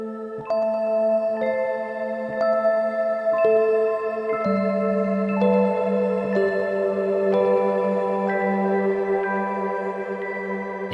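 Heavyocity Avant modern keys preset Gently Into the Night playing a slow arpeggio, bright bell-like tones stepping through the notes over a sustained low tone, each note ringing out with heavy effects and no talking.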